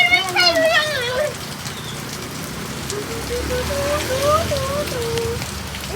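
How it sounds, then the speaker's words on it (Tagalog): Steady rain patters on surfaces nearby, a continuous hiss of drops that runs through the whole stretch while children and adults talk and call out over it. "It's literally raining."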